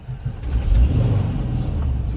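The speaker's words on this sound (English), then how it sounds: "So I'm going to start the car to show you." Engine of a 1977 VW T2 Kombi Westfalia campervan starting up, a short low rumble that swells into a steady idle, loud and close.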